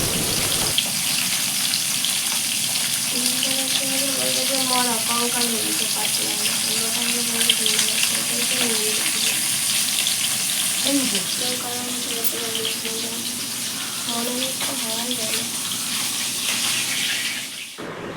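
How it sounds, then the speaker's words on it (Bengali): Fish frying in a pan in a home kitchen gives a steady, close hiss of sizzling oil that runs almost the whole time, with faint voices speaking underneath. "মামি মাছ ভাজছে"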